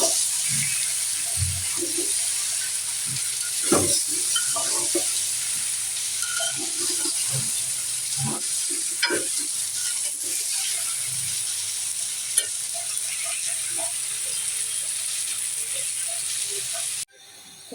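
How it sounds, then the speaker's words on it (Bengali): Vegetables frying in a pan after a splash of water, with a steady loud sizzle and hiss throughout and scattered clinks and scrapes of stirring, ending abruptly near the close. "পরিমাণ মতো একটু পানি দিয়ে দিব।"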